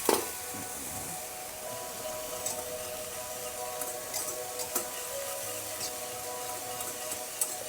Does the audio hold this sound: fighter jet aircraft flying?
no